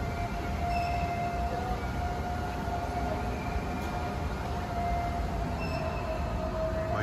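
A Malahide-bound train at a busy Dublin station gives a steady, even rumble with a sustained tonal whine running throughout, continuous and fairly close, with no voices.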